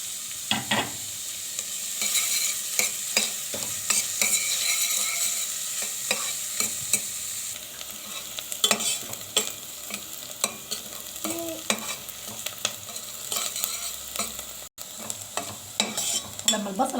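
Onions frying in oil in a pot, with a steady sizzle and frequent sharp clinks and scrapes as they are stirred, close and fairly loud.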